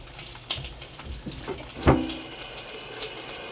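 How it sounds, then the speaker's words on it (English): Water is poured into a quart mason jar holding wheat berries, a short splashing fill with a brief gurgling burst near the middle before it settles into a faint trickle, close by with no talk. "and just put some water."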